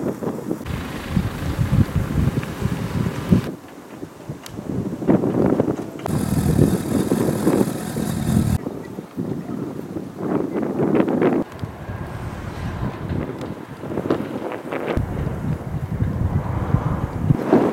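Gusty wind buffets the microphone outdoors at Lake Hakuryu, a reservoir lake in Hiroshima, with loud rumbling bursts that rise and drop in uneven waves and no talking.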